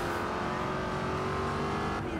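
A Jaguar F-Type engine in the racing game Forza Horizon 2 drones steadily and loudly, holding a sustained note without pause throughout.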